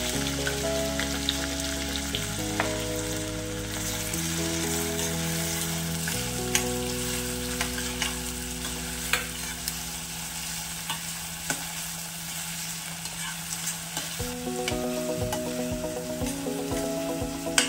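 Two large onions fry in ghee with cumin seeds, giving a steady sizzle broken by scraping and clinks as they are stirred, with soft background music playing throughout.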